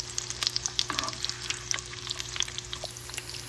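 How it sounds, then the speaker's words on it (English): Korean-style pork cutlet frying in bubbling oil in a pan, giving a faint, steady crackle with scattered small pops and spits throughout, no voices. "Can you see that the oil is beginning to bubble?"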